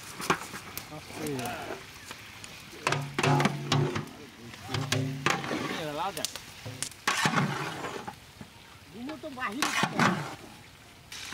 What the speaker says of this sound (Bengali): এই দেখেন আমরা কি ভাজা ভাজতেছি